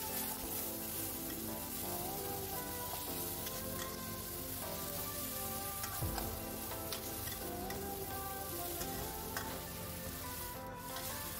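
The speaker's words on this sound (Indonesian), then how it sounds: "Kemudian saya masukkan juga tomat sama daun jeruknya ya. Sekarang kita aduk-aduk. Kita tumis sampai layu ya." Tomato and kaffir lime leaves sauté in a pan while being stirred, giving a steady, dense sizzle that runs unbroken throughout with faint scraping ticks.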